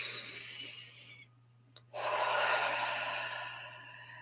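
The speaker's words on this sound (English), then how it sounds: "let's take one more deep, nourishing breath together" A slow, deep breath taken in a quiet guided meditation: a soft inhale, a brief pause, then a long, airy exhale that swells and gradually fades, close and alone over a steady low hum.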